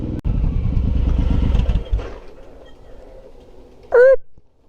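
Suzuki M109R motorcycle engine rumbling loud and close for about two seconds, then easing to a lower idle as the ride ends, with a brief high squeak near the end.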